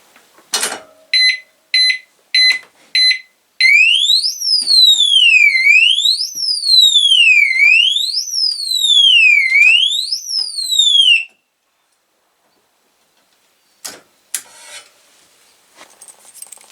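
An Abus 350 disc lock alarm goes off loud and close, a few sharp beeps followed by a piercing rising-and-falling electronic siren that then cuts out, leaving scattered clicks.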